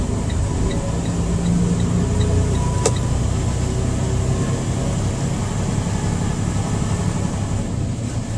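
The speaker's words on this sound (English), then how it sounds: "That truck that just passed me." A truck passing on a highway, heard from inside another moving truck on the road: a steady, loud broadband road and engine roar that holds throughout with no clear pass-by peak, and no talk.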